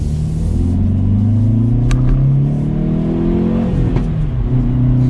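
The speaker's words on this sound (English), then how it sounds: "There's not much exhaust tone, but the pops have a good sound" A 2022 Hyundai Veloster N with a manual gearbox revs hard, giving a loud, continuous deep engine rumble that rises and falls, with a couple of sharp exhaust pops cutting through.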